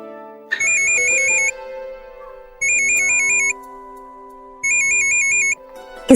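A phone rings with three bursts of a trilling electronic ringtone separated by pauses, loud and close, over a soft musical background.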